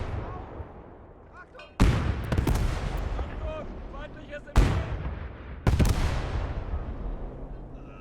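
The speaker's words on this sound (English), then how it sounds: "Alright, they're shooting back." Gunfire in the WWII Eastern Front video game Call to Arms Gate: three loud, sharp shots with echoing tails ring out amid a rumbling battle backdrop, with voices heard at times.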